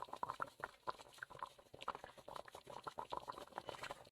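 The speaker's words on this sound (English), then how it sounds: "I would say we're getting pretty close to boiling. We're definitely at a simmer." A pan of salted water simmering close to a boil, with dense, continuous bubbling and popping that stays fairly steady and close by, with no voices over it.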